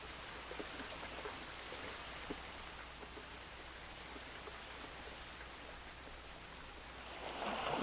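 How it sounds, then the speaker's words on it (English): A giant waterfall in the Second Life virtual world rushes steadily as a dense, even wash of spray, holding constant throughout and swelling slightly louder at the very end, with no voices. "We have another giant waterfall coming off of here"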